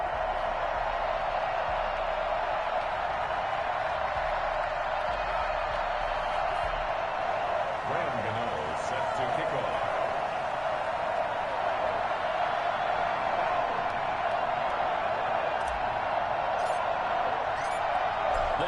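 A stadium crowd in an EA Sports NFL game, Seattle Seahawks versus New York Giants, keeps up a steady, even roar throughout, with a commentator's voice over it.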